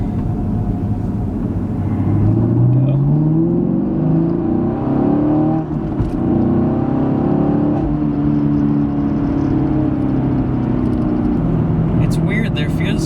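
A 2016 Chevrolet Camaro SS with its V8 pulls hard in second gear on a back road, the engine note rising steadily and loudly, then easing as the car shifts and keeps droning from inside the cabin.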